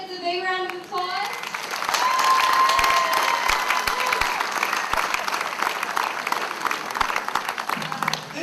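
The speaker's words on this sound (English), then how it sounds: "Let's give all these kids a big round of applause." An outdoor crowd at a July Fourth parade awards program in Morgantown applauds the kids with sustained, dense clapping that follows a short stretch of talk and fades slightly toward the end.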